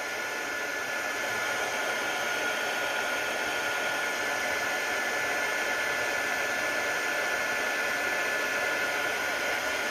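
A heat tool melting Bubbly embossing powder on a handmade wedding card blows a steady, loud, hair-dryer-like whoosh of air that continues unbroken, with no talk.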